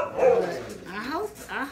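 A few dogs bark and yip at close range in a home, in short uneven bursts, with a voice nearby.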